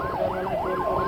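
A fire engine siren wails in a smooth rising and falling cycle, sounding steady and fairly loud across the short stretch as the truck arrives at a house fire.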